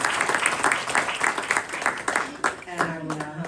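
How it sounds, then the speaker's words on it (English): An audience applauds an honorable guest at a live community event, a dense clapping wash that thins and fades toward the end as a voice begins talking. "Let's give Honorable Joy Haber a round of applause just again"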